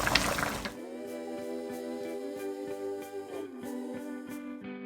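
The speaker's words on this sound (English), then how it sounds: "We'll just need to pour this over the kway teow or hor fun." Sauce poured over hor fun rice noodles with fish fillet: a brief splashy pour at the start, then a thin trickling liquid sound with faint clinking, close and fairly quiet, no talking.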